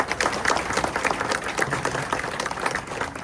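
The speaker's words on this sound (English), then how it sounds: "Just a huge round of applause to all of you who came out today to see this last flight." Crowd applause and cheering at a JetBlue E190 retirement flight event, dense steady clapping from many people throughout, fairly loud and close with no clear speech over it.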